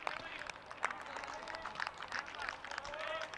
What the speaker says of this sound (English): Generous round of applause there